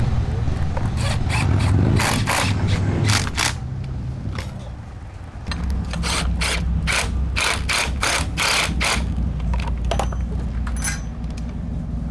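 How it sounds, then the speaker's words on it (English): A ratchet clicks in quick repeated runs while tightening a foam mount on Fat Baggers custom motorcycle handlebars, close and crisp over a low mechanical hum, with no one speaking. "Now we're going to tighten up the foam mount."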